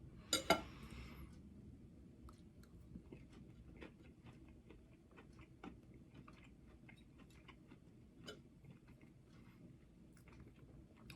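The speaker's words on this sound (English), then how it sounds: "I'm using a knife." A knife and fork cut chicken cordon bleu on a plate. There is an opening clink of cutlery on the plate, then faint, sparse taps and scrapes in a quiet room.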